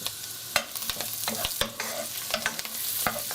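Shiitake mushrooms with thyme frying in hot oil, a steady close sizzle broken by repeated scraping stirs of a utensil in the pan.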